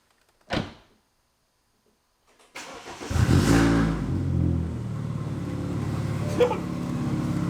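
A single solid thump of a BMW car door shutting nearby, then after a pause an engine starts and idles with a steady rumble.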